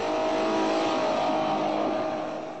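Off-road vehicle climbing a mountain route near Mtskheta, Georgia, its engine a loud, steady, close drone that holds throughout and eases off slightly at the end, with no talking.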